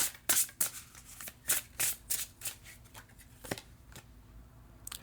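Tarot cards being shuffled by hand during a reading, a run of crisp riffling bursts and soft flicks in an irregular rhythm, close and fairly quiet, fading into sparser taps near the end.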